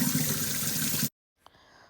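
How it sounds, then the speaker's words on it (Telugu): River water from Triveni Sangamam runs through a filter with a steady close rush for about a second, then stops abruptly, followed by near silence and a faint single clink. "ఇది ఫిల్టర్ అవుతూ ఉంటుంది"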